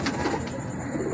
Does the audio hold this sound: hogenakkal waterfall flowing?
no